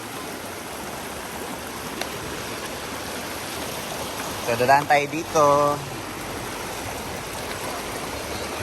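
Flood water from a storm rushes along a river where the bridge has washed out, a loud steady roar that persists throughout, with a person briefly talking midway.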